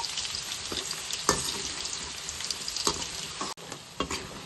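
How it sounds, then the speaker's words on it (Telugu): Chicken pieces for chicken majestic fry in a pan over a medium flame, giving a steady close sizzle with soft stirring clicks and brief crackles, and no voices. "స్టవ్ మీడియం ఫ్లేమ్లో పెట్టుకొని వేపుకోవాలి"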